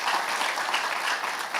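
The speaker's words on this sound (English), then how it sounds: "Please give Mr. Vaidyanathan a big round of applause." A crowd at the Pitch BFSI Marketing Summit & Awards claps for a speaker, a dense, even wash of applause with no voices over it.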